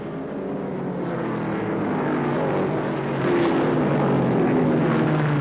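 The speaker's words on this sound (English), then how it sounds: "You will hear two distinct different types of exhaust notes." ARCA SuperCars race past at Kil Kare Speedway with a continuous, fairly distant engine roar that swells louder toward the end, with no speech over it.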